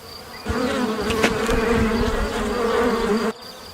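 Steady, loud buzzing of bees humming continuously at close range, a dense insect drone that starts abruptly and cuts off near the end.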